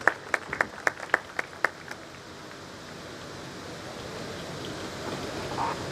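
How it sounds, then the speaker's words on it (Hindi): A few loud claps at the start, then a swelling wash of audience applause welcoming a pastor at a church anniversary event, continuing steadily to the end. "आप सबकी पुरजोर तालियों में पास्टर पीटर मसीह साहब"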